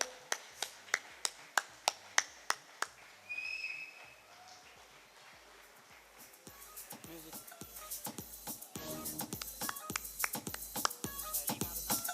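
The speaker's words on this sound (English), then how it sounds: "Please, big round of applause for Arvind." Sharp, evenly spaced single claps ring out at a staff celebration, then a brief lull gives way to a fuller, busier round of applause mixed with crowd noise and some music.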